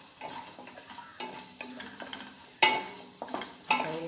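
Whole cloves and cinnamon pieces being stirred in a frying pan for Maharashtrian coconut rice give off a soft sizzle with scraping spoon strokes and a sharp metallic clink near the end.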